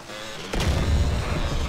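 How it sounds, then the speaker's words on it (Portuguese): A sudden deep blast erupts at a player base in MTA DayZ after a quiet moment, followed by a loud, sustained low rumble as the explosion rolls on. "Tem alguém explodindo a base de alguém."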